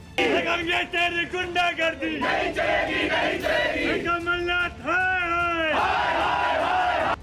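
A large crowd of BJP workers outside a police station shouts slogans in rhythmic, overlapping bursts, loud and close, with several raised voices chanting together and a few sustained yells.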